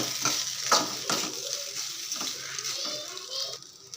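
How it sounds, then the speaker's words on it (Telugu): Rice is stirred in a pan with chili powder and garam masala for karam annam, a continuous soft sizzle with scraping stir strokes, close up, while a voice chatters in the background. "కొంచెం గరం మసాలా ఇలా వేసేసుకొని బాగా మనకి రైస్కి పట్టేలాగా కలుపుకుందాం"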